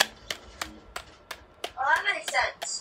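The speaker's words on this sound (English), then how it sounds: "everybody give him a round of applause." Roughly eight evenly spaced hand claps ring out in a steady rhythm, followed by a brief burst of voices near the end.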